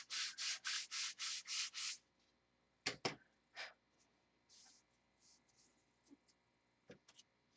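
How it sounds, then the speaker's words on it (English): A piece of wood is sanded by hand in seven rhythmic rasping strokes, close and crisp, followed by quieter scattered scrapes, taps and handling noises in a quiet room. "Have to sand that, or cut it off the other end,"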